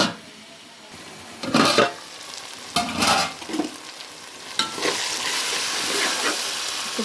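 Vegetables and tomato pieces cooking in a covered pan give off a soft, steady sizzle, broken by a few louder bursts of stirring and frying hiss.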